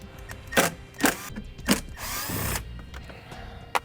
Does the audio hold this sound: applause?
no